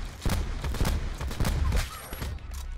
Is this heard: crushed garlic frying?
no